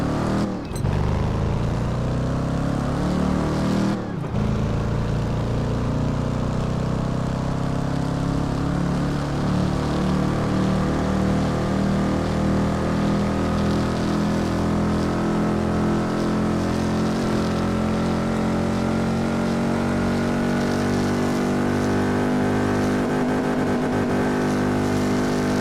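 A Dodge Ram SRT10 engine drones steadily in the Test Drive Unlimited 2 video game, a loud, continuous roar whose pitch climbs slowly as it accelerates through gears, with no talking.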